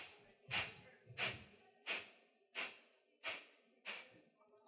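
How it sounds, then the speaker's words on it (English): During a yoga breathing exercise, a person forcefully exhales through the nose in a series of six sharp, evenly spaced sniffs, each a quick hissing puff followed by a brief pause. "Eight sniffs out the nose."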